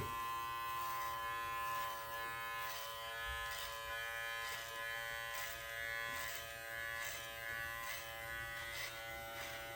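An electric trimmer buzzes continuously while trimming a beard, a close, steady motor hum with slight rhythmic changes in pitch as it moves through the hair, no talking.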